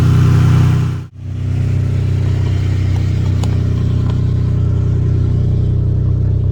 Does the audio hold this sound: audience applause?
no